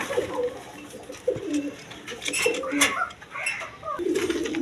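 A pair of cream-bar racer pigeons coo in repeated low, throaty phrases close by, with faint background clatter and some voice underneath.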